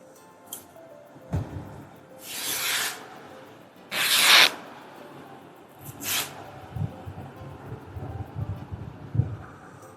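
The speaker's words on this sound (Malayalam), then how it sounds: "ഇതിനെ ഇവിടെ നിന്ന് ഇങ്ങനെ കട്ട് ചെയ്തെടുക്കണം, ഇത്രയും തുണിയെ" Scissors cut through cloth to shape a cone nappy, giving a few short close rasping snips and crunches with quiet gaps between them.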